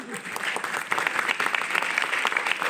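An audience at an event in Valdivia applauds in a dense, steady burst of many hands clapping together, fairly loud and continuous throughout.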